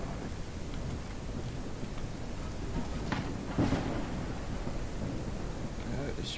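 Steady rain hiss in the video game Ranch Simulator, a constant wash of falling water with a few faint rumbles and clatters layered through it, no voices over it.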